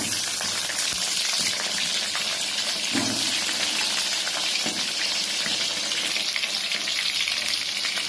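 Potatoes fry in oil for chicken biryani, giving a dense, continuous close sizzle with occasional light stirring knocks, no talk.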